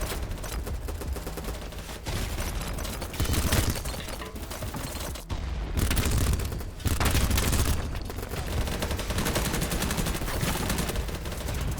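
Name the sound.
SMG gunfire in a video game shooter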